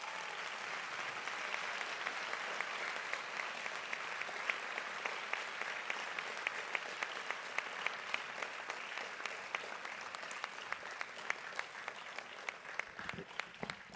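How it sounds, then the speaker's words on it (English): Sustained applause fills a school board meeting room, a steady wash of many hands clapping at moderate distance, with individual claps popping out and tapering off near the end. "So please give Pedro a big round of applause for that"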